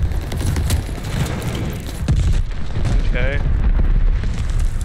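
Glide bomb explosions in the video game Call of Duty Vanguard, a continuous loud rumbling barrage of booms and bursts, with a player briefly speaking over it.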